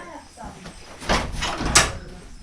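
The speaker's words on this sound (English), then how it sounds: "I can open the door right here." A barn door on a farm being pulled open, two rough sliding scrapes and rattles close by, with a voice speaking around them.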